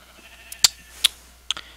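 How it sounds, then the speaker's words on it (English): Sheep in the video game Minecraft give three short, sharp bleats spaced about half a second apart, clear and close against a quiet background. "Let's just wait for these sheep to regrow their wool."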